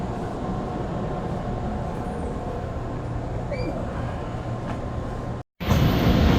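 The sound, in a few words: commuter train running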